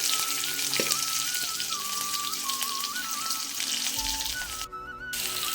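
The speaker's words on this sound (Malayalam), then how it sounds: "അപ്പോൾ ചെറിയ ഉള്ളി ഇട്ട് കൊടുക്കാം." Shallots frying in oil for a Kerala curry, a steady crackling sizzle close by with a faint tonal hum running underneath and a brief low thump near the end.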